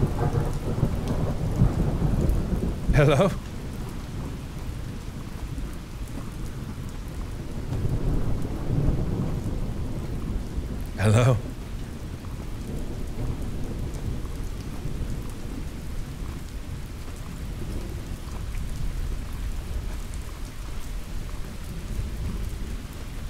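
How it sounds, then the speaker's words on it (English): Steady rain and rolling thunder in a video game storm, with two sharp thunder cracks standing out over a constant downpour; a voice calls out briefly at the start. "I like the impediment of the rain. The rain is super cool."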